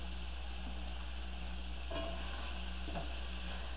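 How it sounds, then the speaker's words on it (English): Vegetables sautéing in olive oil in a pan while making lasagna, a soft continuous sizzle over a low steady hum, with two faint stirring clinks, no voices. "let's get started with sauteing up some veggies"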